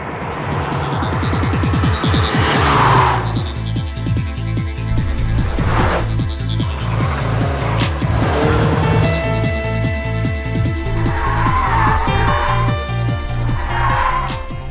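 A Lotus Esprit sports car drives hard with a loud, steady engine roar and revving, with bursts of tire squeal and scrubbing rising over the noise throughout.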